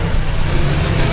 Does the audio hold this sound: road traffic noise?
yes